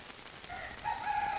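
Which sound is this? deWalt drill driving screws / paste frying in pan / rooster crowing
rooster crowing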